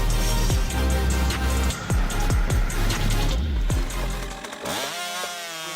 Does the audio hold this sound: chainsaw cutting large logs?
yes